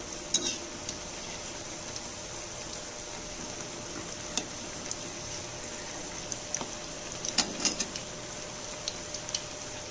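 Spinach fritters (ponnanganni keerai vadai) deep-frying in hot oil, a steady close hiss of bubbling with scattered pops and crackles throughout, no voices.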